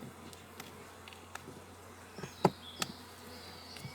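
Honeybees buzz in a continuous, moderately loud drone around an open hive during the first beekeeping inspection of 2020, with occasional close clicks and knocks of hive equipment.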